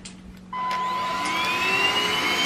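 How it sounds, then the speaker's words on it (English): A Shark vacuum cleaner in a kitchen switches on with a sudden jump in level, then settles into a steady loud whine with a rising tonal pitch as the motor spins up, running alone without talk. "I have to get the vacuum out"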